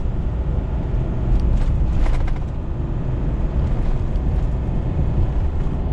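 A Ford Powerstroke diesel truck downshifts while towing a heavy load, its engine droning steadily at a loud, close level with a brief rise in pitch partway through.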